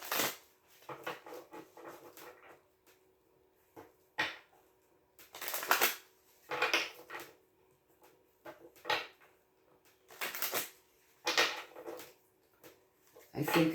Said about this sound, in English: I think a couple more shuffles.